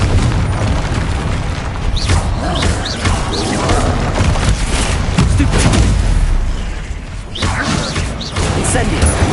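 Confringo blasting spells explode in the Hogwarts Legacy video game, loud repeated booms and bursts over a dense, constant battle din, with voices speaking throughout.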